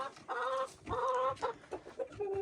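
Hens cluck in short bursts, several calls overlapping close by, with pauses between clusters of throaty notes; Dominant and Hisex laying hens.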